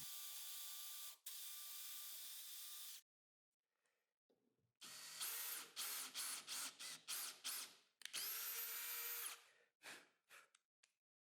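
Power tool threading a hole in an HPL piece in a workshop: steady whirring runs, a silent gap, then a series of short stop-start bursts and longer drilling spells, close and clear, no talking.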